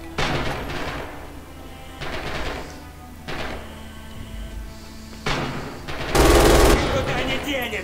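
MG 42 machine gun fire in the video game Red Orchestra 2, loud sustained bursts of rapid automatic shots separated by short pauses, with the heaviest burst near the end.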